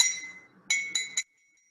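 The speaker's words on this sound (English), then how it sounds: "the spoon on a glass" A metal spoon clinks against a glass: one ringing tap fading out, then three quick bright strikes in a row, each ringing briefly before silence.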